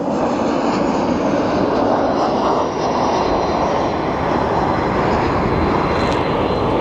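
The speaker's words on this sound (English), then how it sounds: "we do actually have our Canyon Blue livery taxiing into position." A 25-year-old Boeing 767 airliner in Canyon Blue livery taxis into position at Sky Harbor airport. Its engines give a loud, steady, continuous roar throughout, with no voices heard.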